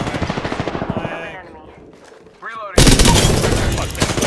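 Automatic weapon fire in Apex Legends: a rapid rhythmic burst at first, a brief lull, then a loud, dense barrage of overlapping shots and impacts that fills the end.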